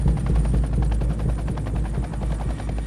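Helicopter rotor thumping steadily and loud overhead during a mountain rescue approach into a narrow granite ravine, its rapid blade chop continuous throughout with deep engine drone.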